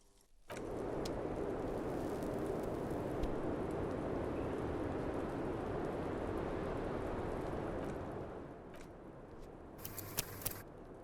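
Steady rain falls in the video game Disco Elysium, a continuous hiss that holds for several seconds and then thins out, with a few scattered clicks near the end.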